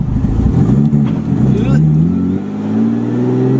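An R32 Skyline with a manual swap gets a throttle blip, its engine note rising in a quick rev, then settling into a steady idle hum. The sound is loud and close, with people talking.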